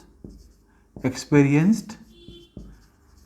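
A marker or chalk writes on a board during a physics lecture on electric potential, giving short scratchy strokes and taps under a teacher's speech.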